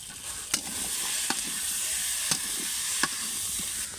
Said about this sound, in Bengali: মশলাটাকে ভালোভাবে নেড়ে নেব।